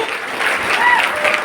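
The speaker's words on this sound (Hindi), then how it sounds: "एक बार जोरदार ताली होना चाहिए" Loud, close applause from a Safe Shop gathering honoring the company's founders and senior leaders, a brief dense burst of many hands clapping at once with a faint murmur of voices underneath.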